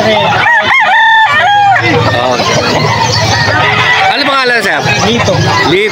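A bulik rooster crows repeatedly and loudly, close by, with chickens clucking and several people talking over the calls.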